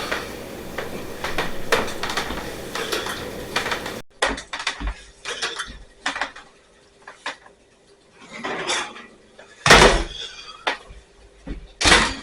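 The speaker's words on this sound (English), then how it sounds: "let's pull our cake out of the oven and let's test it" A pumpkin cake is taken out of a home oven, with a clatter of the oven door, rack and pan, sharp knocks and a couple of louder bangs over quiet kitchen background.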